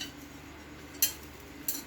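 A metal charcoal stove (kalan de uling) is handled and gives two brief clinks of metal on metal against near silence.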